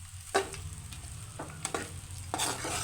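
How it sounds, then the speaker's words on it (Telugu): A spoon stirs rice for lemon rice in a hot pan on the stove, giving faint scraping strokes over a low background hum, with a few sharper scrapes near the end. "ఇలా స్టవ్ మీదనే వేడి చేస్తే"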